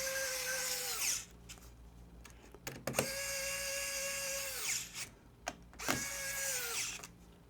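A power screwdriver whirs in several bursts while tightening screws on an HP EliteBook laptop, its motor pitch dropping as each screw tightens, separated by brief clicks and handling noises.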